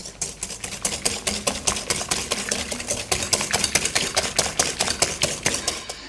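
Egg yolks and sugar are beaten together with rapid rhythmic whisking, a fast steady clatter of strokes against the bowl, close and clear with no voices.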